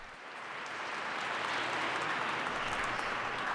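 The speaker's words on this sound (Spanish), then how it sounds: "Inmediatamente el aplauso" Crowd applause for Pope Francis at a gathering with the poor and refugees in Budapest, a steady dense wash of clapping that swells slightly and holds throughout.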